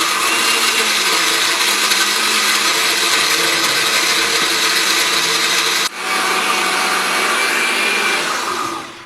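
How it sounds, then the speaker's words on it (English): A blender runs on high, crushing ice into a summer smoothie with a loud, continuous whirring roar that shifts pitch briefly partway through before steadying, close to the mic with no voices over it. "I'm putting it on high because I really want to get it blended and I don't want any little ice chunks in there."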